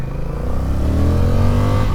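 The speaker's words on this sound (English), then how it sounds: "That 1100cc parallel twin engine, oh man." A 2024 Honda Rebel 1100 cruiser's 1100cc parallel twin engine revs up loud and close, its deep throbbing note climbing steadily in pitch over two seconds.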